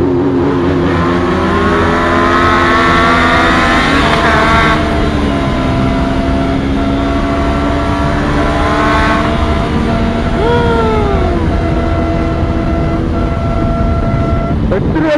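Motorcycles rev through a tunnel in Buca, İzmir, producing a loud, continuous engine roar with rising and falling throttle sweeps that echo off the walls. A voice partly imitates the engine sound, and speech is heard over the noise.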